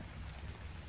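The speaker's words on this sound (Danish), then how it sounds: "Hallo, det regner." Steady rain falling in ARK: Survival Evolved at night, a dense even hiss with low rumble throughout, moderately quiet and constant with no speech over it.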